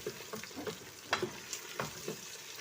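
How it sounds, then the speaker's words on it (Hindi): Tomatoes and onions frying in a pan give a soft, steady sizzle with a few scraping stirs and light clinks, fairly quiet and close. "हमारे टमाटर और प्याज भूनते हुए 5 मिनट हो चुके हैं।"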